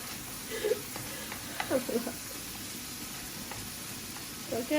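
Orange peel sizzles in hot oil in a pan for a Bangladeshi fish curry, a steady soft frying hiss broken by occasional scraping stirs, fairly close, with someone speaking over it.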